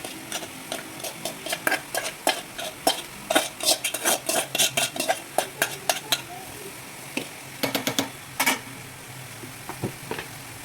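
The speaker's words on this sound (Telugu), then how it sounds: "క్యాబేజీ అంతా వేసుకొని కిందికి మీది కలుపుకోవాలి." Cabbage and chana dal are stirred in a pan, with a busy run of sharp spoon-on-pan scrapes and clinks over a faint sizzle, pausing briefly before a few more strokes.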